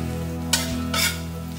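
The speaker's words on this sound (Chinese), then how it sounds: "将干香菇稍微炒一下" Ginger slices and dried shiitake mushrooms stir-fry in a pan, with two short bursts of hissing sizzle as they are tossed over a steady low hum.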